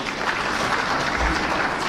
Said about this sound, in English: we give him a clap